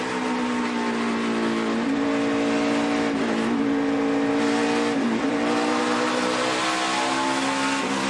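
NASCAR Nationwide Series stock cars racing at Bristol, a dense, continuous engine roar from several cars with rising and falling pitch as they circle the short track, loud throughout.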